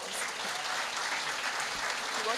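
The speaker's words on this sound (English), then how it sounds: "round of applause" Applause at a sports awards night, a thick continuous wash of clapping from an audience, with faint voices mixed underneath.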